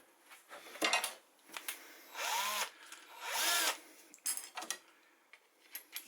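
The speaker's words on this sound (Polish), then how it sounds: "Ten kawałek wsadzę do wkrętarki." A cordless drill spins up a cracked wooden piece clamped in its chuck, several short whirring bursts and two longer sustained runs between quiet gaps, close and clear with no talking.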